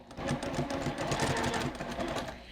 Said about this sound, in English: Now I'll sew that with my 1/4 inch seam allowance, and again not worrying about a back stitch.